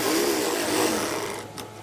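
A sewing machine runs continuously while stitching a salwar pocket, giving a loud, close and even mechanical whir that eases slightly toward the end.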